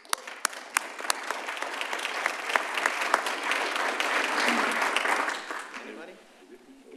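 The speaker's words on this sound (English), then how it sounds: "Let's give these guys a round of applause." City council meeting audience clapping for public services staff, a dense round of applause that swells, holds, then tapers off toward the end.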